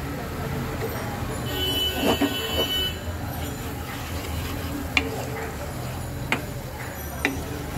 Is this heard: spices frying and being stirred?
yes